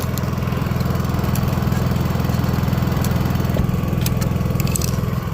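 Honda EU3000IS inverter generator running after a carburetor replacement, a steady, even engine drone with a rapid low pulsing, close and loud with no talk.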